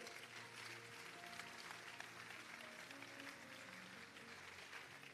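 Congregation clapping steadily at the grand finale of a Lagos church convention, a dense continuous wash of applause from a large crowd with faint musical tones underneath.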